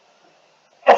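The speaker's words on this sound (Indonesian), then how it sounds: "Batuk ini nggak mau damai." One sharp, short cough breaks out near the end of an otherwise almost silent moment.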